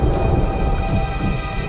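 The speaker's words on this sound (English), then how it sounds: "Sounds more like a storm outside." Cartoon thunderstorm heard from inside a cave, loud rain roaring with deep rumbling thunder, a short dense burst without speech.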